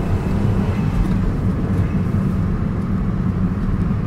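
A Honda S660 rolls through an intersection, a steady low engine drone and road rumble heard from inside the small car, constant and fairly loud with no talking.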